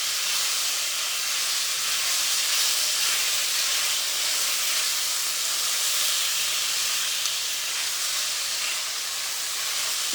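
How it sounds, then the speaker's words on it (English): Two-inch pieces of asparagus sizzle in a hot pan, a loud, even, unbroken hiss that holds steady throughout with no talking. "Can you hear the sizzle?"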